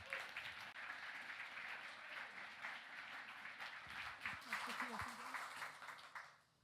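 Round of applause from the audience at a comic art festival talk, a soft continuous patter of many hands with a few voices mixed in, tapering off at the end.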